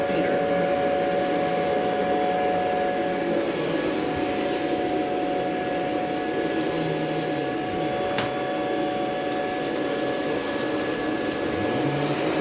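A Rainbow vacuum cleaner fitted with a power nozzle runs with a steady, loud whine and roaring airflow that holds constant throughout, with faint tonal hum and a brief click partway through.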